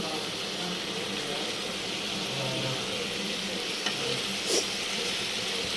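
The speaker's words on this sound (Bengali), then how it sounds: "দিয়ে রাখার পরে এখন এখানে কষাচ্ছি" Spiny gourd, pointed gourd and potato sautéing together in a hot pan, a steady close sizzle and hiss running throughout, with a faint stir or scrape near the end.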